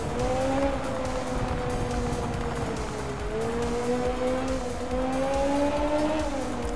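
Group B rally car in the Art of Rally game, its powerful engine droning continuously and loud for several seconds, pitch dipping and climbing with throttle, with faint tire noise and no talk.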